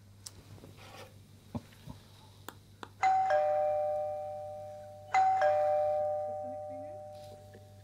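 A push-button call bell rings twice in a home, each a clear bright electronic ding that rings out and slowly fades, preceded by a few soft knocks and handling sounds in a quiet room.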